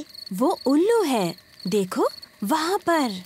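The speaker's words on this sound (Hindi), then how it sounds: "ये कीड़ों की चीची आवाज है।" Cartoon insects make stylised, cricket-like chirps in four rising and falling bursts separated by short gaps, close and fairly bright, with speech also present.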